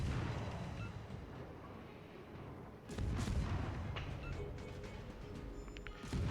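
Battleship guns fire in World of Warships, heard as faint, distant booming blasts over a dense rumbling wash, with a heavier salvo halfway through.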